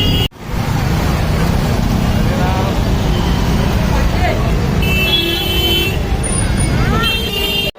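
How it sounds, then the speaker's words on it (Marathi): Heavy road traffic outside the ISKCON temple in Thane: a dense, loud, continuous roadway rumble with several car horns tooting in the latter half. "ट्रॅफिक खूप आहे आता इथे"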